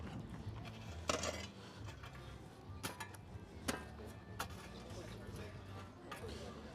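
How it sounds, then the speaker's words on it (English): A cast-iron Dutch oven set onto a campfire for cornbread, then coals scraped and moved onto it: a few sharp metallic clanks and scrapes scattered over a steady low background, with someone talking throughout. "So I'm gonna set it on top there and move some coals on."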